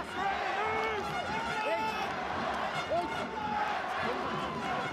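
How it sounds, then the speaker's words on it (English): A stadium crowd at a Toulouse Olympique rugby league match cheers and roars as one broad steady wash of noise, with whistles and shouts in it under commentators talking. "The crowd trying to get behind the hometown hero"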